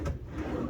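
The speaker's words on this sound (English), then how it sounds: "And this is drawers." A wooden drawer in a Hilton Minneapolis hotel room slides open or shut, a short, soft, low rumbling scrape lasting under a second, with no voices.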